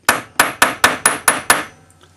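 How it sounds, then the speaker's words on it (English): Seven sharp metallic strikes from a polished chasing hammer hitting a steel hallmark stamp on 925 silver ring out in a steady, evenly spaced sequence. Each blow is loud and close, followed by a short ring, then silence. "I'm using a chasing hammer."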